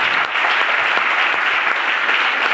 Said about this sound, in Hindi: जोरदार ताली होनी चाहिए दोस्तों